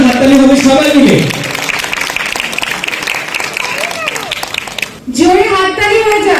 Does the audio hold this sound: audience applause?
yes